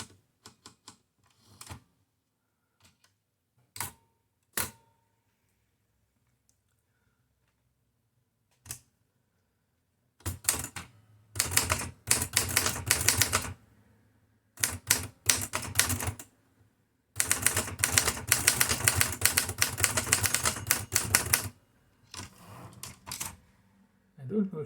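Remington typewriter keys striking in bursts of rapid clacking, separated by quiet pauses and a few isolated taps, close and crisp.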